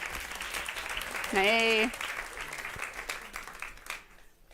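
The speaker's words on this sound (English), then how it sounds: "Please give him a round of applause as he joins us." Audience applause welcoming a guest onto a stage at a food talk event, a sustained clapping wash under a loud shouted greeting and brief speech, fading out near the end.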